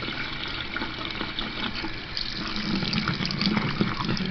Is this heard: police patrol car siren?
no